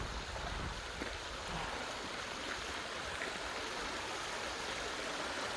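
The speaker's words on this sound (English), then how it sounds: "We have another beautiful babbling stream right here." A babbling stream near a dam makes a soft, steady rushing and trickling with no break, faint and fairly distant.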